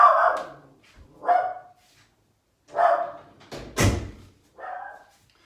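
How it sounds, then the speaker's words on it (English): A small dog barks inside a house in several sharp, separate bursts spaced a second or so apart. A loud knock or door bang lands partway through, and no one talks. "Oh, that's the dog."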